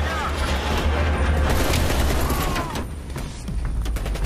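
Gunfire in the video game Call of Duty Black Ops Cold War: rapid, dense automatic shooting with a heavy low rumble, near and loud for most of the span, briefly easing before resuming.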